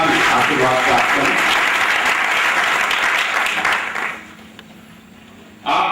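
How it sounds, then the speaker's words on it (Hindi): Loud audience applause at a ceremony fills the first four seconds as a dense patter of many hands, then fades quickly to near quiet before a short burst of noise at the end. "मैं चाहूंगा उन शिक्षकों के लिए भी जोरदार तालियों को और उनका भी आशीर्वाद प्राप्त करें।"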